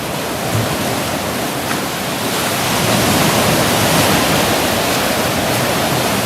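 Rough sea water surges and churns loudly beneath a wooden pier at Clacton, a dense, continuous roar of breaking surf heard up close from the underside walkway, steady and swelling slightly midway.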